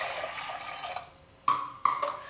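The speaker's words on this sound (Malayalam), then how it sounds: "ഇനി ഇതിലേക്ക് നമുക്ക് ആവശ്യത്തിന് വെള്ളം ഒഴിച്ചു കൊടുക്കാം" Water pours into a pressure cooker onto half a cup of dal, two cups in all. Splashy gushes start, stop and start again in two short bursts, following a quieter trickle, close and clear with no talking.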